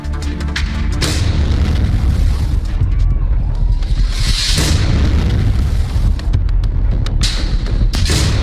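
Explosion sound effect in a Hindi news report about an earphone blast, with heavy rumbling booms and bursts layered densely and loudly throughout, a sharper hit around the middle, and no clear speech.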